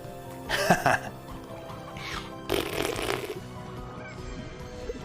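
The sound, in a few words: jetpack in video game sounding like a fart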